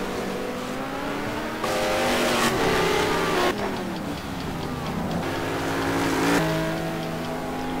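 A McLaren GT race car in a GT2 racing series at Townsville comes into the pits, its engine note shifting and revving loudly and continuously with other cars audible around it.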